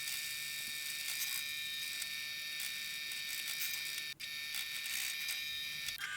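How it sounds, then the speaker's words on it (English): A drill countersinks bolt holes in the aluminium plates of a CNC3018 frame, giving a steady, close, high-pitched whine and buzz that runs continuously with one momentary dip, and no talking. "you can see that I'm actually countersinking the bolts here for those as well."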